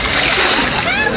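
Water splashes loudly and continuously at a hot spring as a bucket is tipped, a close, sustained splatter with voices audible underneath.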